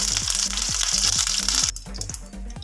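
Mustard seeds and curry leaves fry in hot oil, giving a bright, loud sizzle with rhythmic scraping stirs close by, the hiss dropping sharply partway through while the stirring continues.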